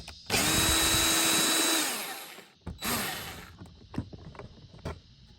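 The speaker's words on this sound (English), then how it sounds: "We'll use a 10mm socket to remove it." A power driver with a 10mm socket backs a screw out of a Lincoln Aviator door, a loud close whirring burst of over a second, a shorter second burst, then faint clicks and handling.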